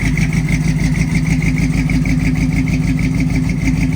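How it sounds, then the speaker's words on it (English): An old Chevy square body barn-find truck idles close up with an exhaust leak and headers, a steady loud rhythmic chugging with a ticking pulse and no talking. "Sounds like she's got a little bit of an exhaust leak, but she's idling okay."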